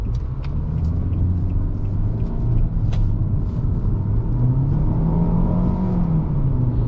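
A 2021 Nissan Altima SR AWD accelerating hard on the highway, heard from inside as a steady road rumble with engine tone rising and falling in gentle sweeps, continuous and close.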